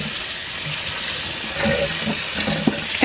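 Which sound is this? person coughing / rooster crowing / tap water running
tap water running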